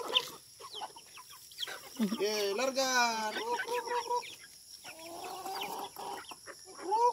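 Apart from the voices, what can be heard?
chickens clucking on a farm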